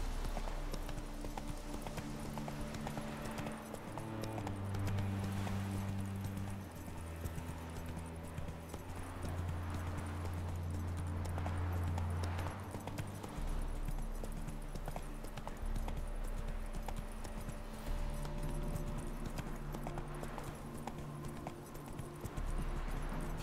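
Geralt's horse Roach in The Witcher 3, hooves clip-clopping in a steady trot over a low game music drone, moderately loud and continuous for the whole stretch.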